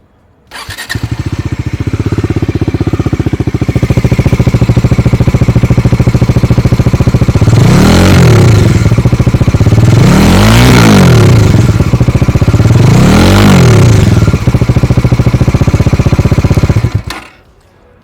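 Bajaj Dominar 400 BS-6 motorcycle starting up and idling close by outdoors, a loud thumping single exhaust note with three sharp throttle blips rising and falling midway, then cut off.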